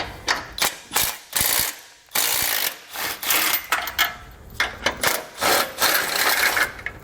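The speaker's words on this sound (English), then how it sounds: "We're going to be using a 15mm socket to remove these 3 bolts here." A ratchet fitted with a 15mm socket clicks rapidly in repeated close bursts as it removes bolts from a vehicle's front fascia support during a base plate installation.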